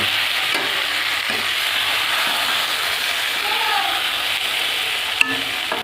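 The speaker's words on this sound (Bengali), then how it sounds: "বেগুনটা আমি ভেজে নেব।" A steady, loud sizzle of eggplant frying in oil fills the clip, with faint stirring noises and a brief clink near the end.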